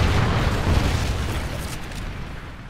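A Trinity rocket strike in Call of Duty Ghosts detonates as a heavy, rumbling boom that rolls on for a few seconds, dense and low, slowly tapering with no voices over it.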